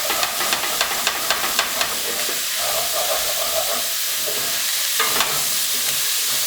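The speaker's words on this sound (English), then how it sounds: "these onions and celery have been cooking" Onions and celery simmer in broth while a utensil scrapes and stirs the pan with a quick run of rhythmic strokes, then a steady bubbling sizzle; a voice speaks briefly.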